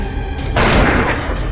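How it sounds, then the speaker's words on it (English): A gunshot sound effect from the dark fantasy game Darkest Dungeon, a single loud boom with a booming tail over a steady game soundtrack. "I'm gonna shoot this guy in the rear."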